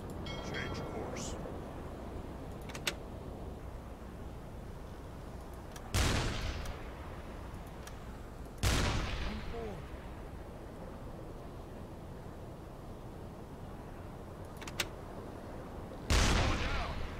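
Deck gun of a U-boat firing on an enemy ship, three heavy booming shots spaced several seconds apart over a low engine and water rumble, with someone talking between them.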